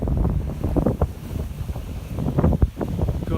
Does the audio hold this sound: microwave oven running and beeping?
no